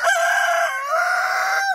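A rooster, kept with backyard chicks including Wheaton Americana and Iron Samanis birds, gives one clear, loud, close crow with a drawn-out final note.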